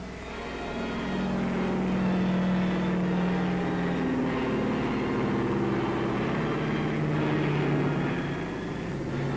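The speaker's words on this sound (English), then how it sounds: "German reconnaissance plane." A German reconnaissance propeller plane's engine drones steadily, swelling and fading slightly as it passes overhead at a distance, with no other sounds.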